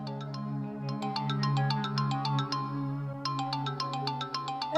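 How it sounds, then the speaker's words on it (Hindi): A mobile phone rings with a melodic ringtone, a steady sustained tune of bright repeated notes playing continuously and fairly loud, with no voices over it. "फोन बज रहा है तुम्हारा।"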